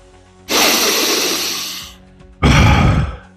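Deep breathing demonstrated during a breathwork lesson: two loud, close, rushing breaths, a long one of about a second and a half followed by a shorter, forceful one after a brief pause.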